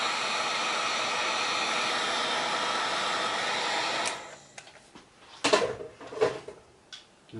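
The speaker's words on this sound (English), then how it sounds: "I'm going to take this heat gun here," A handheld heat gun blows hot air onto a piece of plastic armour part with a steady, loud whooshing hiss for about four seconds, then shuts off, leaving a few light clatters and knocks nearby.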